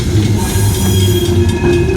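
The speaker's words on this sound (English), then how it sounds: "this was probably the same train that was sitting in Prince at the edge of the rail yard yesterday" A loud, close freight train rolls through a rail yard at the edge of a small West Virginia town, a steady heavy rumble with rhythmic wheel clatter and no talking.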